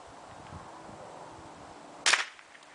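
A single sharp crack from a Ruger 10/22 .22 LR rifle firing toward a bullet trap 300 yards away, snapping out near the end after quiet outdoor background.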